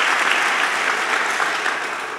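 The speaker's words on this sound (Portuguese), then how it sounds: "Você pode aplaudir Jesus?" Church congregation applauding Jesus after a reported miracle: steady, dense clapping from a crowd, loud and continuous throughout, tapering slightly at the end.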